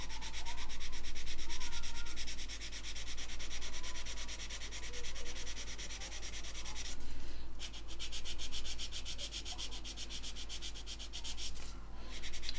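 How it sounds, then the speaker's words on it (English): A 600 grit sponge sander rubs over the nose of a model aircraft fuselage in steady back-and-forth strokes, a close, continuous scratchy hiss that pauses briefly twice. "Sanding sponge, this is the 600 grit Infini Spongeback Sander."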